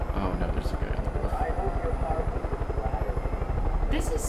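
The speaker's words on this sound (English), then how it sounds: "No one pay attention to the helicopter." A helicopter in Far Cry 5 flies close overhead, its rotor chopping in a fast, steady rhythm with engine whine. Voices talk over it now and then.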